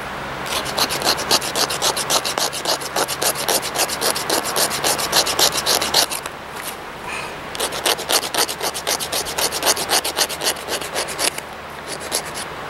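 Steady, rhythmic scraping of a blade across wood to make fire-starting tinder, close and loud, repeated strokes running continuously with a short pause midway.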